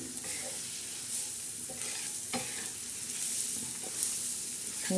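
Soaked chana dal being stirred in a hot pan with onion and curry leaves, a soft continuous sizzle broken by occasional scraping clicks of a spoon against the pan, close and steady.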